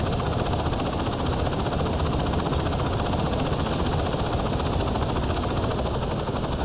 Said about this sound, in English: The Ronin have an attack helicopter